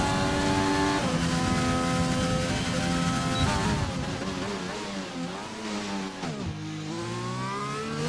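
Open-wheel GP2 race car engine screaming at high revs as a lap begins at the United States Grand Prix, loud onboard tone climbing and dropping through gear shifts, with a brief wheelspin burst near the end.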